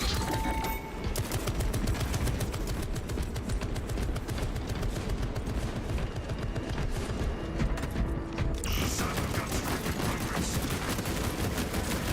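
A turret in Warhammer 40K: Space Marine 2 fires continuously in a dense, rapid stream, loud and close, with a brief dip in intensity near the end before the barrage resumes.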